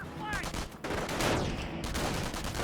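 Gunfire crackles in a Company of Heroes 1v1 match, riflemen and grenadiers trading shots as a dense, continuous rattle of rifle and machine-gun fire with sharp cracks throughout.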